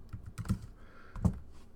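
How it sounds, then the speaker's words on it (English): Typing on a computer keyboard while entering a search for Python downloads, heard as a few close, soft key taps with two firmer keystrokes about a second apart, no talking. "Type in Python downloads"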